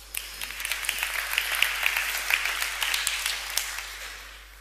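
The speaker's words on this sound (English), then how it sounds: "Give a round of applause." Conference audience breaks into applause, a dense steady clapping that swells for a few seconds and then fades away.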